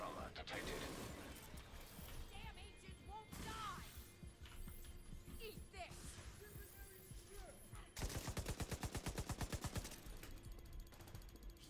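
An automated turret fires in The Division 2 amid game combat, with bursts of rapid gunfire, a rattling volley near the end and a voice speaking over the action.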